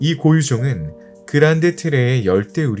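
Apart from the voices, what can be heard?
No everyday noises stand out.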